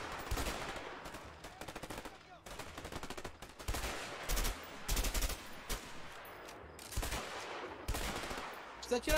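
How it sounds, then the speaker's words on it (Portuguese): Gunfire in the video game A Way Out, with dense bursts of rapid shots and sustained automatic fire rattling loudly for several seconds amid game noise. "Não precisa atirar mais não, já matei todo mundo."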